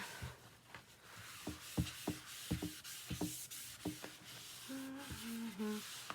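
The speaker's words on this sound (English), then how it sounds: "I will just get any leftover residue with my board eraser" A board eraser rubs leftover chalk residue off a chalkboard in a run of short, soft scrubbing strokes at close range, with a few faint tonal squeaks near the end.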